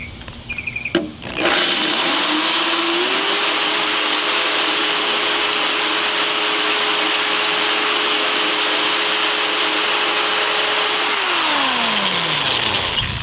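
A power drill drilling a hole in a glass aquarium whines steadily at a constant pitch for several seconds, loud and close, with a gritty grinding hiss before slowing down at the end.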